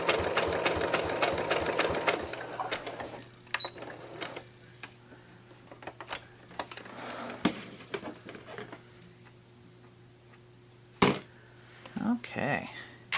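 Home sewing machine stitching a fabric potholder seam, a steady mechanical whir with rapid needle patter running in bursts, stopping and restarting, with some quiet handling noise between runs.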